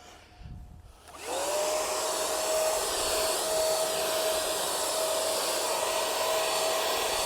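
A cordless paint sprayer running on a Dewalt 20V battery, spraying paint across a board: a steady, loud airy whine with a high motor tone starts after a quiet second and holds continuously to the end.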